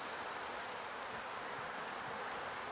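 Honey bees buzzing at a crowded, overflowing hive, a dense steady drone close by with no pauses.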